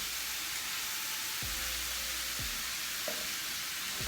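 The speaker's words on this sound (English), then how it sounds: "Because what you're ultimately doing is toasting your rice and browning all of your meat and vegetables." Rice toasting in a pan with browned sausage, meat, vegetables and a little tomato sauce for Creole jambalaya: a constant close sizzle broken by a few low knocks and scrapes of the spoon.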